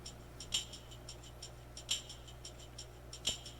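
Faint, crisp jingling taps of a tambourine in a repeating rhythm, part of a drum beat made in Ableton, with a few brighter accented shakes in a quiet beat.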